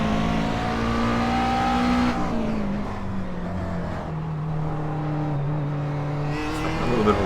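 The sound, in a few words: DP race cars on straightaway at Watkins Glen, iRacing video game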